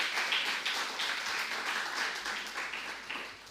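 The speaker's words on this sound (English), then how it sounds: "I think Mr. Harrow deserves a better round of applause than that." Audience applause at a symposium ceremony, a steady wash of many hands clapping that holds evenly throughout at moderate distance, with no voices over it.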